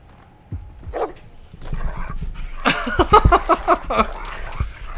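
A dog in the Game of Thrones video game lets out a series of quick, sharp barks and growls amid combat noise, building to a dense burst of yaps near the middle.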